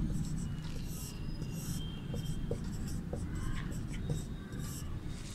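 Chalk or marker strokes on a board during a Sanskrit lesson for Class VIII, a steady scratchy scraping that continues throughout over a noisy room background.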